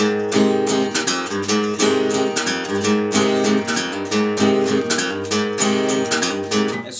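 Finger-picked acoustic blues guitar playing a transition figure in C, in the style of a particular song: a steady run of clear, evenly spaced plucked notes over a ringing bass, played alone and close.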